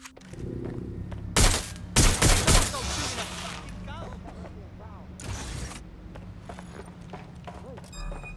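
Bursts of gunfire in the video game Watch Dogs: Legion crack out in a tight cluster of loud shots, followed by mechanical clatter and scattered lighter game sounds.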